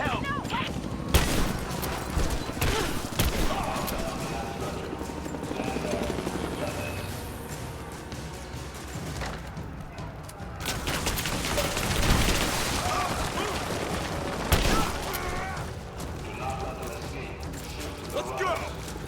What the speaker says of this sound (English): We're under fire at the edge of the village.